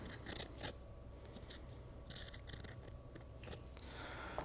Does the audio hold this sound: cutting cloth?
yes